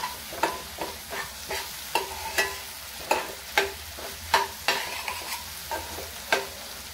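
Spoon scraping and stirring cooked onion and tomato in a pan for a Maharashtrian sandage vegetable, steady rhythmic strokes about twice a second over a faint sizzle, close and fairly quiet, no talk.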